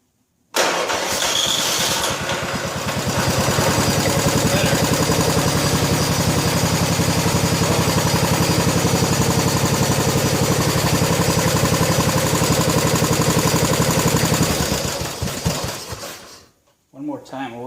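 The engine of a 1987 John Deere SX75 lawn tractor riding mower cranks, then runs loud and steady with a fast rhythmic chug for about fourteen seconds before it dies away.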